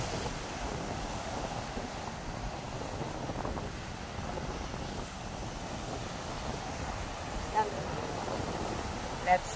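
Ocean waves breaking at the seashore, a continuous soft wash of surf mixed with wind buffeting, distant and fairly faint, with a couple of brief bumps near the end.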